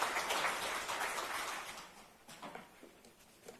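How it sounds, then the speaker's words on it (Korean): Audience applause at a policy forum on K-wellness as a national strategic industry, a dense burst of clapping that fades gradually and thins into scattered claps by the end. "모두 큰 박수로 맞이해 주시기 바랍니다"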